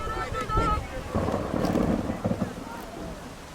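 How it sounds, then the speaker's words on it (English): Storm wind at sea aboard a ship in an audio drama, a continuous blustery roar with low rumbling surges and buffeting gusts swelling and easing. "The storm hit harder than expected."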